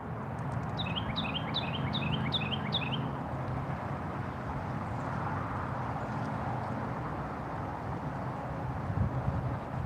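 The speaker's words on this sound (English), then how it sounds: "And that one bird agrees with me." A bird outdoors in the backwoods gives a quick series of about six sharp, bright chirps early on, fairly clear over constant wind noise that continues afterward.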